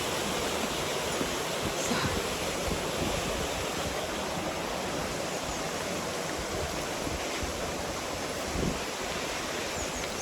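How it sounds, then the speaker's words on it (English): Water rushes into the top lock of a canal staircase through an opened paddle at Nantwich, a loud, steady, broadband roar that continues without break. "So I've just opened the paddle to fill this top lock."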